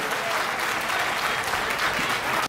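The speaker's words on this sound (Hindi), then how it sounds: "एक बार जोरदार तालियों के साथ इन दोनों का" An audience at a comic poetry gathering applauds two poets, a dense, continuous wash of clapping that holds steady and then cuts off abruptly.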